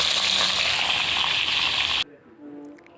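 Shol fish frying in hot oil makes a loud, dense, continuous sizzle close by, which cuts off abruptly partway through, leaving a quiet room with a faint voice.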